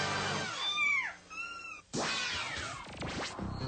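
Small kitten meowing, a few clear, rising-and-falling mews close by, followed by a scuffle or rustle and thin scratching sounds.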